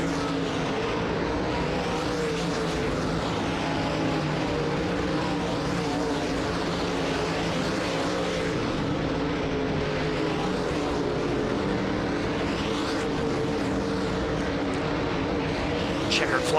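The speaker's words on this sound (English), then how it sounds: "Hot session number 1 for the DIRTcar UMP Modifieds." DIRTcar UMP Modified race cars circle a dirt track on hot laps, a continuous roaring, whining engine noise that swells and fades as cars pass, with a voice talking over it.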